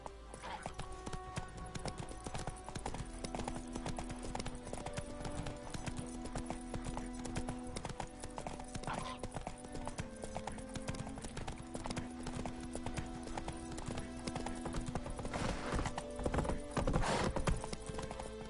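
Roach the horse's hooves in The Witcher 3 clip-clop in a steady rapid rhythm over a soft musical drone, with faint background voices and a brief louder burst near the end.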